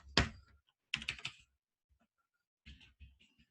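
Close, crisp typing on a computer keyboard in short bursts of clicks separated by brief pauses.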